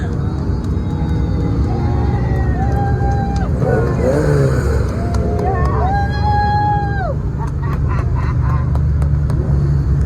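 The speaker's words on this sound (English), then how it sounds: "Here come the cars." Exotic sports cars such as Ferraris and Lamborghinis passing at an outdoor concours event, engines whining and rising in pitch as they go by, loud over steady crowd chatter and wind noise.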